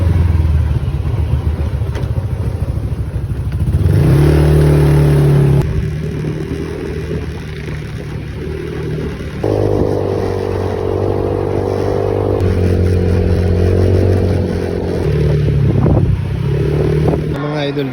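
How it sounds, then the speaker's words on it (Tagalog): A motorcycle rides along from Limay with its engine droning and shifting pitch as it revs and eases off, wind buffeting throughout, while a voice talks over it. "magmumotor lang muna tayo ngayon kasi na-miss din natin magmotor."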